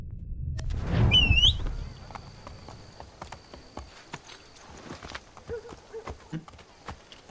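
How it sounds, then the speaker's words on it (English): Horse hooves clip-clop in Assassin's Creed III, a brief loud burst of trotting early on, then sparse lighter hoof steps and faint squeaks continuing at a moderate distance. "Let's go ahead and follow our horse."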